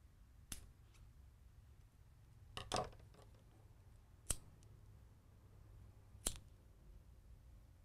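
Scissors trimming the ends of a micro paracord bracelet: four sharp, isolated snips spaced a second or two apart, close and fairly quiet against a hushed room.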